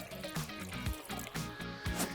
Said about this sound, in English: So I'm going to grab my water here and I'm just going to pour this all inside here.